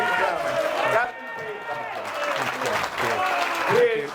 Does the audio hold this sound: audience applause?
yes